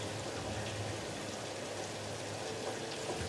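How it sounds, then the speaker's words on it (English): Steady rain falls in the factory-building game Satisfactory, a soft continuous hiss of drops on surfaces with a faint low hum beneath, quiet and even throughout with no talking. "Oh, raining outside."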